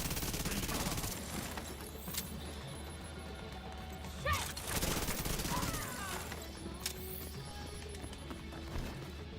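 Gunfire from The Division 2 comes as bursts of shots with crashing impacts over constant game noise, fairly faint and dense, with a short lull between volleys.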